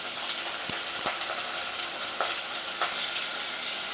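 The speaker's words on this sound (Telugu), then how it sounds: "యాడ్ చేసుకున్న తర్వాత బాగా కలుపుకోవాలి." Tomato rasam gets stirred in a pan after turmeric and salt go in, with a quiet continuous sizzle broken by a few sharp spoon clicks against the pot, no voices.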